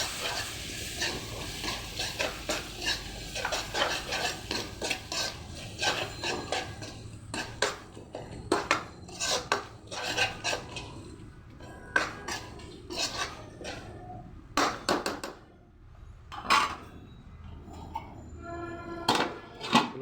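A spoon stirs chicken masala in a pot over a lowered flame. It scrapes and clatters against the metal in rapid, uneven bursts, with a soft sizzle underneath, close and fairly loud.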